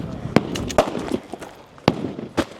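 Rifle shots ring out during a stage of a regional shooting competition, a few sharp, spaced cracks heard at a distance under a commentator's voice.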